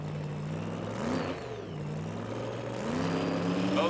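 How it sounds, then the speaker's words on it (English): Pro Comp drag racing car engines at the starting line of the 1982 NHRA Northstar Nationals idle and rumble with a steady low drone, pitch climbing as they rev up toward the end; loud and continuous. "listen to the RPMs come up at the starting line"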